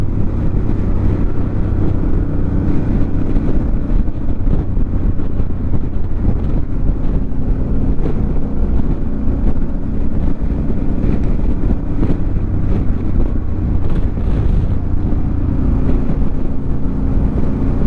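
Loud, constant wind roars and buffets past a rider behind the windshield of a Harley Davidson Pan America Special motorcycle, with a deep engine and road rumble underneath. It holds steady without a break, and no one speaks.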